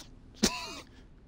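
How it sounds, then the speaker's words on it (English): A character in Resident Evil 2 Remake gives a single sharp, close cough, a brief raspy burst followed by a short throaty trailing tone, then quiet background. "I can't stop coughing."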